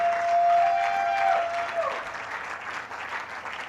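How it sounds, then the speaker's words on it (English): Tech conference audience in Port Harcourt breaks into a full round of applause, dense and steady clapping near and loud, with a brief sustained tone early on, fading slightly over a few seconds. "why not give yourself a round of applause once again"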